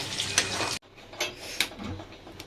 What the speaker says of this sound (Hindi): सो अभी दीदी बोली है टमाटर भी डाल दो इसमें, ताकि साथ ही साथ ये भी भून जाए अच्छे से